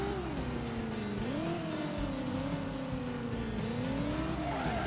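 Car tires squealing through a handbrake 180 turn in a PlayStation 1 racing game, a steady tire screech riding over a constant droning engine for several seconds.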